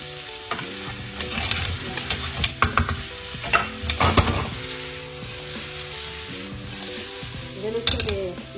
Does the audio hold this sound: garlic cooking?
yes